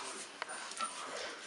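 Belgian Malinois puppies, 34 days old, give soft, brief whimpers and yips at close range against a quiet background.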